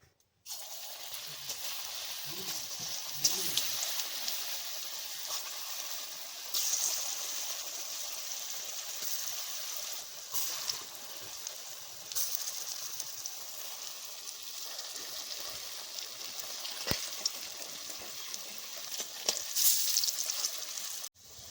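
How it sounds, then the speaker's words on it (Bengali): Dumplings of green banana and mung dal frying in hot oil in a kadai, a constant faint sizzle and crackle with occasional louder pops and clinks, no talking. "এবারে মুঠোগুলোকে ভেজে নিচ্ছি"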